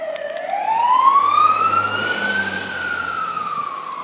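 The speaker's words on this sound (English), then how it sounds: "Nope, that's actually a fire truck." Fire truck siren during a Nor'easter snowstorm, a loud rising wail that climbs and then holds, with a low engine rumble beneath it.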